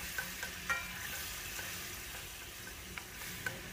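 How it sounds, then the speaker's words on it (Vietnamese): Mild chili peppers sizzle in spicy sauce in a pan, a steady close frying hiss broken by occasional light scrapes and clicks of stirring, with no talking. "Rồi bây giờ mình sẽ cho phần ớt không cay vào để mình xào."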